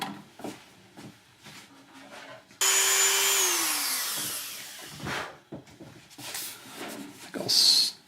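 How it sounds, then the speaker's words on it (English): A power tool fitted with a sanding disc grinds down a block for a rotor mast, with one loud, steady burst lasting about two seconds that then tapers off. Quieter scraping and handling noises come before and after it. "I'm going to take a sanding disc and cut off a significant amount of that."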